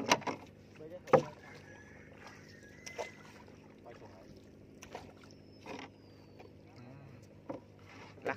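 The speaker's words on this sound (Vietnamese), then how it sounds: "Bơi cho thuyền." A small fishing boat is paddled on a river while nets are checked, with soft wooden knocks and light water sloshing at irregular intervals beneath quiet background talk.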